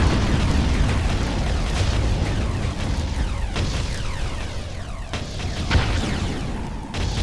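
Loud, sustained explosions and booming bursts from a destroyed enemy Hoverdyne in the Ground Control strategy game, rumbling continuously with sharper blasts near the end and no talk.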